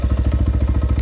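A 2020 SSR Chinese dirt bike fitted with a Lectron carburetor runs close by at low revs with a slight bog, its engine beating in a rapid, even, loud thumping pulse.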